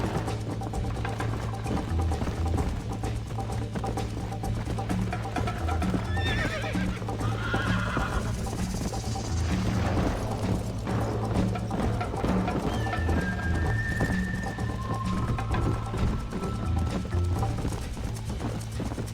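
A horse in the video game Red Dead Redemption whinnies and gallops with steady clip-clopping hooves throughout, set against a constant low game backdrop.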